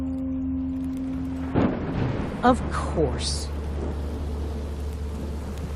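Rain and thunder in the Minecraft Story Mode game, a steady patter with a few rumbling thunder surges, heard under a short spoken reply.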